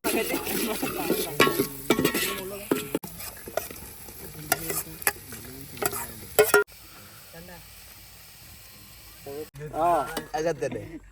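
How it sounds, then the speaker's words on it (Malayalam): Ginger and green chillies are sautéed for biryani, stirred in a pan with scraping, clinking strokes over a soft sizzle, and voices talk intermittently outdoors in a field. "ഇഞ്ചി പച്ചമുളക് വഴറ്റി എടുക്കുക"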